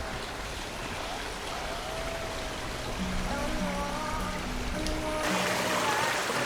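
A stream flows through the village of Lavacolla on the Camino de Santiago in Spain, a soft steady trickle and babble with faint tonal sounds over it.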